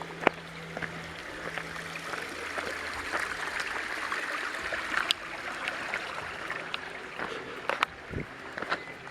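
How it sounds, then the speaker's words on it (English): Stream water trickles and gurgles at a crossing on a hiking track in the Kaituna Valley, a soft continuous babble with scattered splashes and clicks, fairly close but quiet. "Stream crossing."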